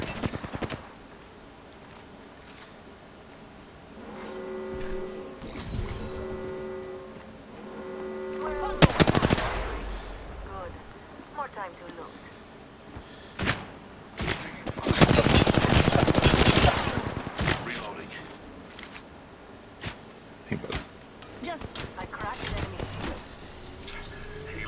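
Gunfire in the video game Apex Legends, with several bursts of automatic fire and scattered single shots, some loud and close and others fainter, over game sounds and occasional talking.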